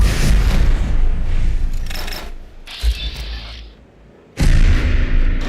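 Missiles explode in Fallout 4 with loud, booming blasts: several heavy impacts, a quieter stretch with a lingering rumble, then another sharp, close explosion near the end.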